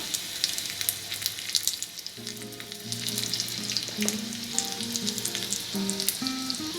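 Asafoetida dropped into hot oil for a Maharashtrian gilka (sponge gourd) bharit, giving a steady close sizzle with crackling pops and a faint tonal hum underneath.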